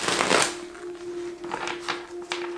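Tarot cards being shuffled by hand: a louder riffle at the start, then softer repeated riffling bursts over a low steady hum, close and fairly quiet.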